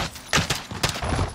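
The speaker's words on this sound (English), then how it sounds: "Gunshots." Rapid bursts of gunfire in the video game Call of Duty: Modern Warfare, on the Piccadilly map, crackle in quick succession, sharp and close, over a noisy, rumbling background.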